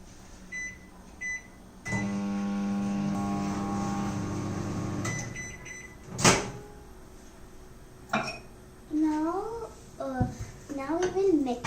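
A microwave oven melting chocolate hums steadily for a few seconds, with a sharp clack partway through. A child and an adult talk before and after the hum.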